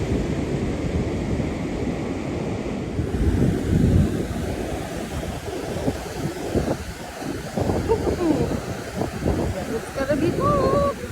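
Ocean surf rolls and washes onto a beach in a continuous roar, with gusts of wind buffeting the microphone and a brief voice near the end.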